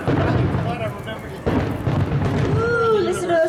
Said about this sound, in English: listen to those fireworks